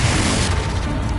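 Confringo fire spell cast in the Hogwarts Legacy video game, heard as a loud, dense explosive boom that fills the whole clip with rumbling low-end roar and crackle, no talking over it.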